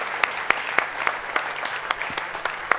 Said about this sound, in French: on peut les applaudir, les 4 lauréats